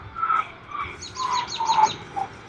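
Birds chirp and trill in quick repeated notes, moderately close, over a quiet outdoor background.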